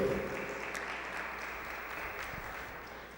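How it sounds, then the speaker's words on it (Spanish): Congregation applauding at a church service, a dense, steady wash of clapping that starts loud and slowly tapers over a few seconds, with no voices on top. "Un aplauso al Hogar de Fuego de Melissa."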